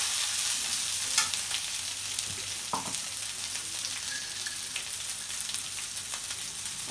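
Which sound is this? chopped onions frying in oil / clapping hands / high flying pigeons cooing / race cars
chopped onions frying in oil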